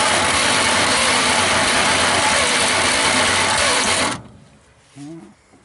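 A 1949 Dodge Business Coupe engine cranks on its first start attempt in 20 years, with a little gas in the carburetor bowl. A loud, steady mechanical rattle runs for about four seconds and then cuts off, followed by a brief faint voice.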